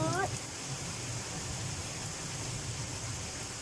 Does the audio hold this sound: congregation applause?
no